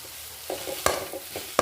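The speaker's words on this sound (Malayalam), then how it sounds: "നല്ല ഇളക്കുക" Spoon stirring chili powder and turmeric into a Kerala-style chickpea curry in a pan, a few distinct scraping clinks and soft scrapes over a faint sizzle, with two sharper knocks standing out, no talking.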